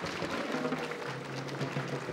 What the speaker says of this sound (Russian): Все аплодируем еще.